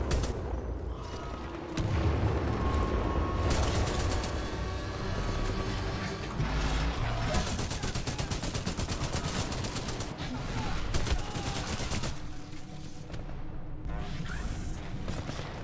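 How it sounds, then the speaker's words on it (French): Dense gunfire and grenade blasts from a Titanfall 2 battle crackle in rapid bursts with heavy booms, loud and continuous with short pauses, with a voice heard faintly underneath. "J'aime beaucoup comment ils balancent les grenades."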